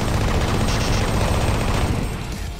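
Rapid continuous gunfire from a high-capacity weapon in the video game Doom 3 BFG, a dense, loud rattling burst that runs without pause and tapers slightly at the end.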